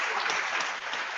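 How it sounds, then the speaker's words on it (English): An audience at a Plaistow community solutions gathering applauds the working group members, a dense, steady wash of clapping that is loud and continuous throughout this short burst. "Can we give these guys a round of applause?"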